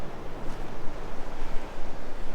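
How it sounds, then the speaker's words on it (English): Strong gale wind roars across the open beach at the Moeraki Boulders, New Zealand, with surf breaking and washing in steadily, a dense, continuous rumble buffeting the microphone throughout. "it is blowing an absolute gale here at the Moeraki Boulders Beach"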